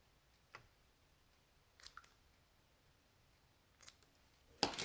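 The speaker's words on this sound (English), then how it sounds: "give it a little haircut with your scissors" A few quiet, sharp snips of scissors trimming ribbon, spaced apart in a near-silent room, followed by a louder rustling burst at the end.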